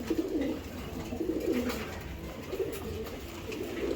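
Racing pigeons coo in a loft, soft rolling calls repeating close by in a low steady murmur with no talk over them.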